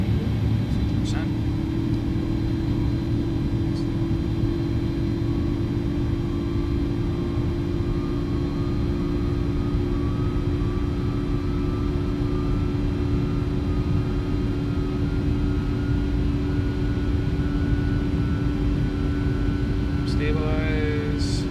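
Airbus A310 engines spool up in Microsoft Flight Simulator, a steady loud jet roar and hum with a slowly rising whine held for the whole stretch.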